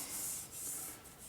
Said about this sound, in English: A little light sanding